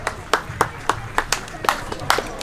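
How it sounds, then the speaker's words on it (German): A few people clap sparsely for Ralf Burgdorf at a German district-league championship celebration, about nine separate sharp claps in an irregular rhythm over a quiet room. "der Applaus geht an Ralf Burgdorf"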